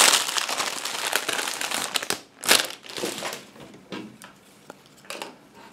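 Plastic packaging on a parcel from China crinkles and crumples in close, irregular bursts as it is torn open, with one louder rip partway through.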